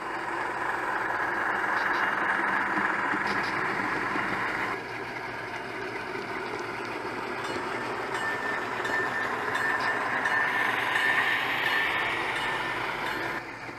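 A model train rumbles and clatters steadily along its track, a continuous mechanical running sound with a slight shift in tone partway through.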